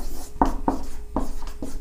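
Chalk or marker strokes on a board come as a series of short, crisp scratches in an uneven rhythm, close and moderately loud, with no talking.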